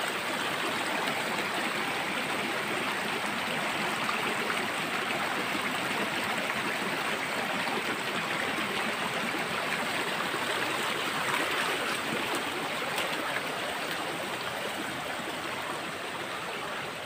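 A creek of flowing water rushes steadily and evenly for the whole stretch, a dense close wash of trickling and burbling with no pauses.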